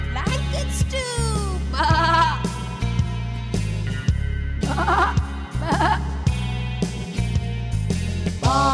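Repeated wavering sheep bleats ring out over a bouncy musical backing, several calls in quick succession.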